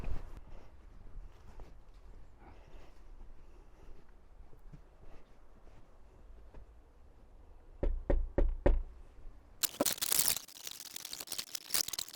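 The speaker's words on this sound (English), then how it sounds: "I'm going to give the customer a knock and see what the issue is" Knuckles rap on a customer's hotel room door, a quick cluster of four or five sharp knocks after a quiet stretch, followed by louder clattering handling noise.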